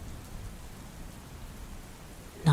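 Steady, soft rain falls as a faint continuous patter, ending in a brief louder knock or thump.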